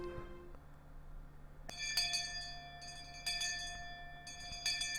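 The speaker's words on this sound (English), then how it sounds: "Just then, we heard a bell far away, marking the end of our lunch break." A distant school bell in the video game Higurashi, a series of clear, ringing chime tones struck in short groups over a quiet background, sustained and fairly faint.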